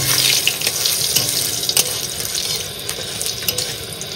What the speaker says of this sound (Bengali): আর ফোড়ন দিয়ে দেবো তেজপাতা আর শুকনো লঙ্কা।